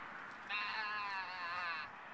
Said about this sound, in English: There's sheep over there.